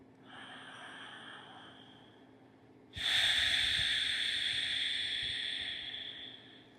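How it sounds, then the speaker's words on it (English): Deep breathing during a yin yoga session: a soft, airy breath that swells suddenly into a louder, hissing exhale and tapers slowly, close and alone with no talking. "Take a few more breaths here."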